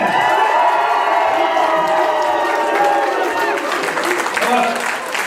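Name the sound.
audience applause and cheering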